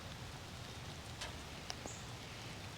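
Light rain falls in a suburban garden in mid-October, a faint, even hiss of drizzle on leaves and surfaces with a few scattered drop ticks and no talking.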